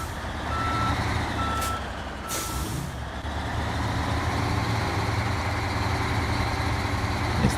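Reversing beeps from the Chimera truck in SnowRunner ring out as a steady string of evenly spaced electronic tones over a loud, continuous truck engine rumble, with a short hiss of air brakes partway through.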